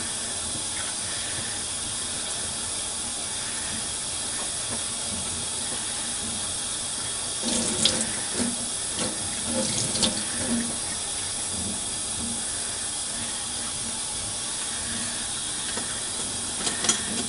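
A tap runs in a steady, hissing stream, with faint splashes and brief touches of movement as makeup brush bristles are rinsed partway through.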